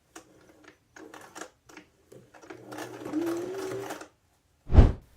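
A sewing machine stitches a pattern piece onto painted canvas in several short runs, ending with one loud, close burst of stitching. No one talks.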